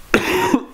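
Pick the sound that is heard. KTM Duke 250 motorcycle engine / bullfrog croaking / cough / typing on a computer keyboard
cough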